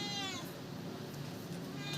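A mother cat calls to her kitten with two drawn-out meows, one at the start and one at the end, close by and fairly loud over a quiet indoor room.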